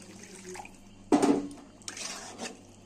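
Water is poured into a pan of amudi fish curry after the spiced base has been fried, heard as a short close splash followed by a second, gentler stretch of pouring.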